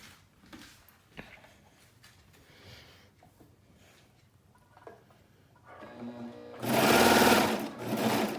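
A sewing machine stitches elastic onto a skirt, with quiet fabric handling and small clicks at first, then a loud steady motor whir of rapid stitching that briefly pauses and resumes near the end.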